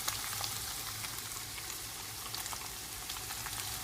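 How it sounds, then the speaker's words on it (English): Tofu sizzles and fries in a pan over medium heat with garlic, a steady close crackling hiss with scattered pops throughout. "I like to cook my tofu until it turns a little bit yellow on both sides"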